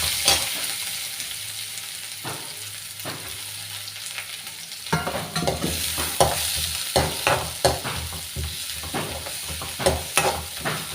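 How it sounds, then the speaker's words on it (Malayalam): Onions fry in oil for a spinach and egg thoran, a constant close sizzle broken by rhythmic scraping and stirring strokes that grow busier and louder partway through, with no talking. "അപ്പം നമുക്ക് ഉള്ളി ഇടും."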